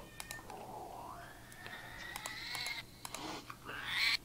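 Several cat meows and yowls in a row, some wavering and rising in pitch, fairly faint against a quiet background with a few small clicks.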